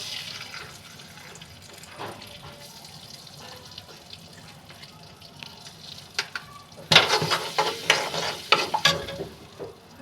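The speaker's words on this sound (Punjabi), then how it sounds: "ਹੁਣ ਆਪਾਂ ਇਹਦੇ ਵਿੱਚ 3 ਚਮਚੇ ਘਿਓ ਦੇ ਹੋਰ ਪਾਵਾਂਗੇ" Ghee spooned into a pan of roasting dry fruits for moong dal halwa, stirred on the stove: soft scraping and low frying at first, then a sudden louder burst of crackling sizzle about two-thirds through that keeps popping to the end.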